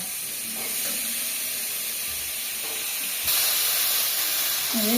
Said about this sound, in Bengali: এই যে বন্ধুরা আমি মাছটা ভেজে নিচ্ছি